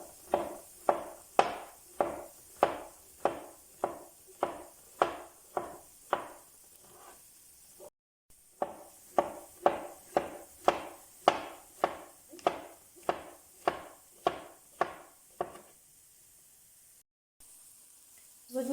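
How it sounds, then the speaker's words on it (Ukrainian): A knife cuts halved champignon mushrooms into slices on a board, a close, rhythmic series of crisp chops about two per second, pausing once midway, with no talking. "Розрізаємо на половинку і нарізаємо слайсами"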